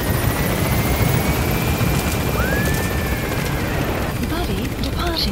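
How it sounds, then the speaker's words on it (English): A military helicopter climbs in the Metal Gear Solid V video game, its rotor chop a loud, dense, continuous roar throughout, with gunfire-like crackle mixed in and a voice speaking over it. "Get on the chopper. Gaining altitude."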